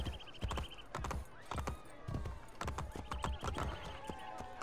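Horse hooves galloping in Assassin's Creed Brotherhood, a quick irregular clatter of hoofbeats close by, mixed with game ambience and occasional whooshing effects.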